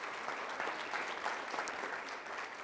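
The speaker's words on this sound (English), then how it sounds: "a big round of applause" Applause at a high school college signing event, a sustained patter of many clapping hands from a moderately distant crowd, steady for the whole stretch.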